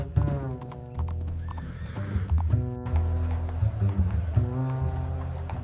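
Horses at an imperial stable in ancient Rome, with hooves clip-clopping steadily and a clear whinny standing out over a busy, continuous backdrop of movement and low rumble.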